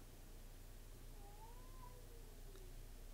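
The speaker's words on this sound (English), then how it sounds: "Sounds like a baby crying. I think it's a cat, but it sounds like a baby." A cat meows in a drawn-out, wavering cry that resembles a crying baby. It is faint and distant, heard over a low steady background hum, with no one speaking.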